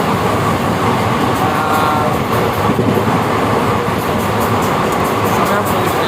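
A passenger train running from Coimbatore to Tirupati fills the clip with a steady, loud rolling rumble and broad rushing noise that continues without a break from start to finish.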